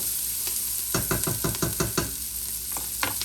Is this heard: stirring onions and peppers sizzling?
yes